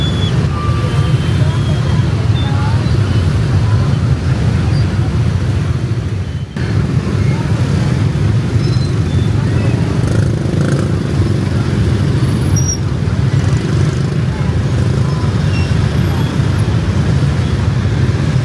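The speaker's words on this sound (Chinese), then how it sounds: "这个摩托车车流都看不到头的" Continuous dense roar of motorcycle traffic streaming past outside a large Taiwanese-owned factory in Vietnam, a steady loud broadband rumble with no break, voices faintly mixed in.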